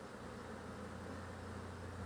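Honey bees hum in an opened hive during a formic acid treatment against varroa, a faint, steady low drone with a soft continuous buzz and no voices.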